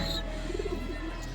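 Pigeons at a home pigeon farm give a low, soft warbling coo, close and steady over a faint background hum, with no talking.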